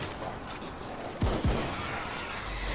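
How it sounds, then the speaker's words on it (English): Gunfire from the co-op zombie shooter World War Z on PS4, two sharp shots close together over a steady game background with a low rumble. "You just can't have everyone shooting the horde."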